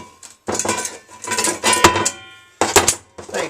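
Heavy fabricated metal frame for a Harley air filter cover, struck repeatedly in a garage workshop, giving several loud ringing clangs in irregular bursts with short sustained metallic ring between hits.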